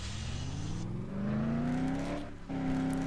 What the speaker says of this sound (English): Engine with a stage 3 cold air intake.